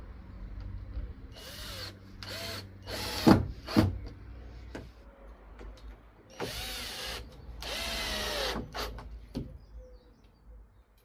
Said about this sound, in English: Right, I'll get screwing these down.